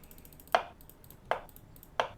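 Knife chopping pumpkin in the Cooking Simulator video game: three crisp, evenly spaced chops, close and clean over a quiet background.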